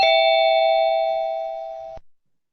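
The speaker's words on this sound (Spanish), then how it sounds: "Flash toca el timbre de la Torre Titanes." A single cartoon doorbell rings at Titans Tower: one clear, bright electronic tone held for about two seconds that fades slowly, then cuts off abruptly with a short tail. It sounds alone, with no voices.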